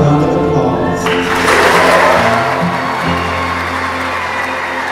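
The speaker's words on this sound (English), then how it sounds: "A loud round of applause." Wedding guests applauding newlyweds at a Central California wedding, a loud sustained wash of clapping with some crowd cheering, sitting over steady background music throughout.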